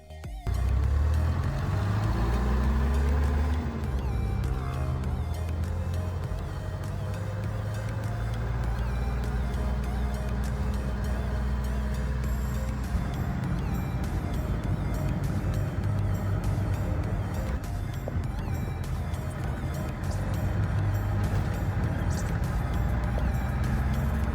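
Dense, continuous Manila street traffic with jeepneys, the loudest vehicles on the road, rumbling engines and passing vehicles steady and loud throughout, with no clear speech.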